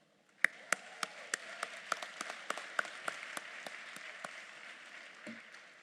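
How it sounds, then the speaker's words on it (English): Applause from a university commencement audience after a song, starting with a few sharp, close claps, then settling into a faint, sparse patter from a distant crowd. "So how about one more round of applause for that great song?"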